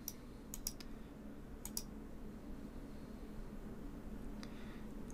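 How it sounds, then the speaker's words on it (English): A computer mouse clicks a few times on an on-screen confirm button, sharp quiet double clicks spaced apart over a faint room hiss, with no talking. "Now we're going to click the confirm button."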